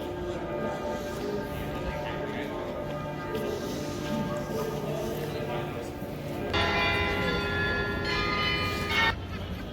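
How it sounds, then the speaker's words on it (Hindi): Town hall bells in Munich, Germany ring out in repeated strikes, sustained and resonant, growing fuller and louder toward the end, with a low murmur of voices underneath. "ये जो आप घंटी की आवाज़ सुन रहे हैं ये मखसूस आवर में बजती है"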